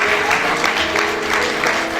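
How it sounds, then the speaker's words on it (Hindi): A gathering of members at a Bharat Vikas Parishad event claps briefly after a team announcement, a short burst of crowd applause with a steady low hum underneath. "आप सभी से पुनः एक बार आग्रह करूंगा कि एक बार जोरदार तालियां बजाएं"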